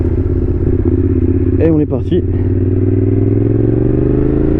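A Yamaha MT-07 motorcycle rated at 47 horsepower idles with a close, steady engine drone, then its pitch climbs as it pulls away. Someone speaks briefly partway through.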